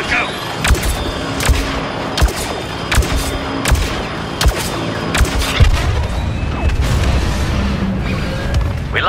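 Blaster and rifle fire in the Star Wars Battlefront II video game, with sharp repeated shots and booms in rapid bursts over a battle din, mixed with voices and game music.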